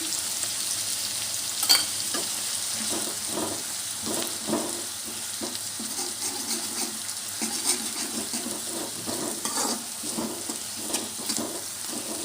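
Ginger paste sizzles in a pan with fried onions while making an amaranth leaf (thotakura) fry. Close, steady frying comes with a rhythmic series of spatula scrapes and stirs, and no voices.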